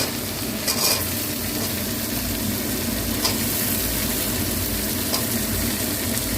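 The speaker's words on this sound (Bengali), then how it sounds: "আলু আর পেঁয়াজটা একসঙ্গে আমি ভেজে নেব" Potatoes and onions frying together in oil after black cumin seeds were tempered, a steady close crackling sizzle with a few louder spatters and faint stirring, no voices.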